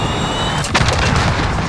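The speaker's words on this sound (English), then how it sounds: "Cruise missile, go for launch." A cruise missile strike in Call of Duty Modern Warfare 2019 lands as a single sharp, loud blast with a deep rumbling tail, following a steady game background hum.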